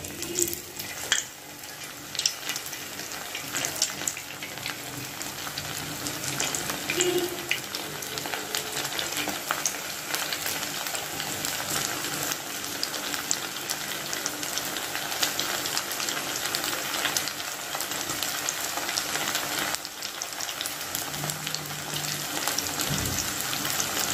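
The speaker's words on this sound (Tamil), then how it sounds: "இப்போ எண்ணெய் காய வச்சு பொறிச்சு எடுத்துடலாம்." Vermicelli pakodas deep frying in hot oil give a steady, crackling sizzle that runs unbroken throughout, close and moderately loud, with occasional bubbling bursts and no talk.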